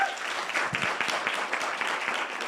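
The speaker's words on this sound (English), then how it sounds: "Can you please give them a round of applause?" Seminar audience applauding, a dense steady wash of many hands clapping that holds loud and even for a couple of seconds.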